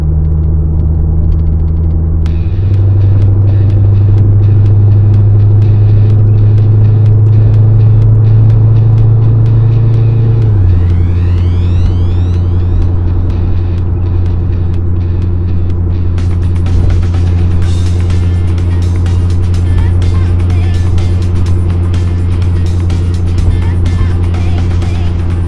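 A car drives along on the way to a cars-and-coffee meet of exotic cars, its engine droning loud and steady from inside or close by, the pitch shifting through gear changes, with road and wind noise building toward the end.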